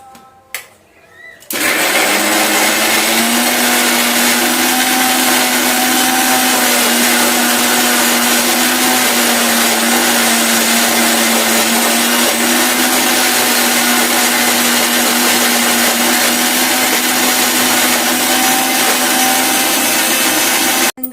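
Mixer grinder grinding soaked batter for garelu, starting abruptly after a brief quiet moment, then running loud and steady with a constant motor whine until it stops at the end.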